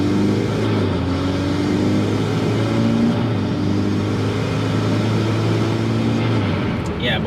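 A 2015 Subaru WRX engine pulls uphill around a corner on a test drive, a steady, loud mid-range drone with a sustained rumble lasting throughout.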